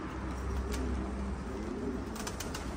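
Soft, low pigeon coos murmuring close by at a pigeon loft, with a few faint rustles and chirps in the background.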